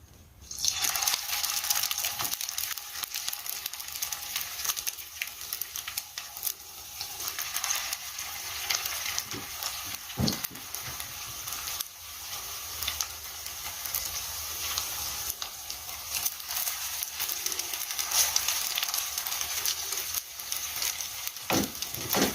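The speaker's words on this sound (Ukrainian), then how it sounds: "А тепер на пательню буду смажити. Розігрілась вже олійка. Тепер я викладаю котлетки." Continuous hot-oil sizzling and crackling as meat cutlets fry in a frying pan, steady throughout with occasional louder pops and scrapes.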